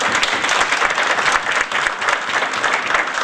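An audience applauds steadily, a dense, even wash of many hands clapping at close range that holds at full strength throughout, with no voices above it.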